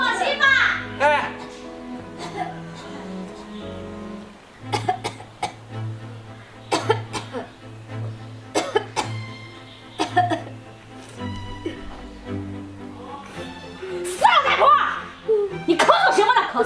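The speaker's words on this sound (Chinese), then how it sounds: "你咳嗽什么呢？ 咳嗽啊？" A seriously ill mother at home coughs in several harsh bursts, mixed with short stretches of people talking and some chuckling in a quiet indoor room.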